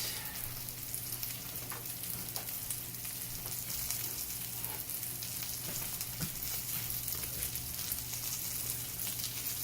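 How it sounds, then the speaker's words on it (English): Chicken searing in a skillet for a Marsala mushroom dish, a steady, faint crackling sizzle holding at the same level throughout, with light spits and pops and no talking. "after it has seared for a couple of minutes, then I shall move it to a plate"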